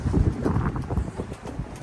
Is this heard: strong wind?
yes